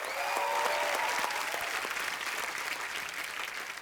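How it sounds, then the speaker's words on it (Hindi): An audience at a comedy talk show claps loudly for a musician being introduced, a dense, steady burst of applause with no voices over it. "इनके लिए भी जोरदार तालियां।"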